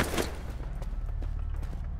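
Rapid bursts of gunfire crackle continuously with a dense, rumbling low end, like sustained automatic shooting in the video game Trepang2.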